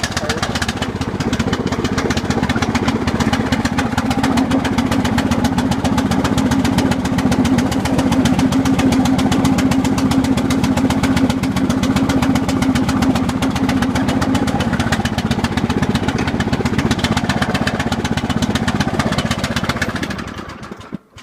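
A motorcycle engine idles on choke after a cold start, a loud, steady mid-pitched throb that runs for about twenty seconds before cutting off near the end.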